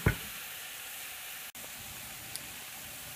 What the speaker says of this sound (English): Mix it up and then allow it to cook for 4 to 5 minutes. Keep mixing it up so that it does not burn at the bottom.